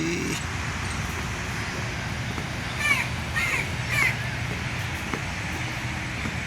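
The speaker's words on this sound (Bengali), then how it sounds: "গাছে গাছে পাখি দেখা যাচ্ছে" A few crow caws ring out briefly around the middle in Ramna Park, Dhaka, over a steady outdoor hum of distant traffic.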